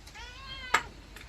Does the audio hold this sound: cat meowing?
yes